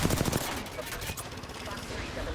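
Rapid gunfire in the Apex Legends battle royale game, a loud, dense burst of automatic shots over continuous action noise throughout the short span.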